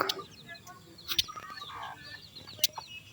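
Two-day-old native chicken chicks peep in a series of high, thin chirps, some clustered and some spaced apart, over a quiet background.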